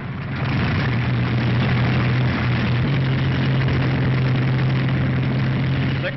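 World War II Thunderbolt fighter aircraft engines starting up as a squadron prepares for a raid, a loud steady low droning roar that swells at the start and then holds without a break.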